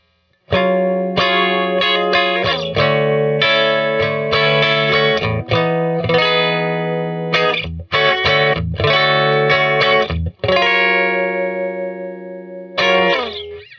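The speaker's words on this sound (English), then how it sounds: "Clean tone going through the Princeton Reverb." An electric guitar with Mustang pickups, clean tone through a Princeton Reverb amp on the bridge pickup, plays chords and single notes with a bright, ringing tone and some reverb, strummed steadily with brief pauses and no voices.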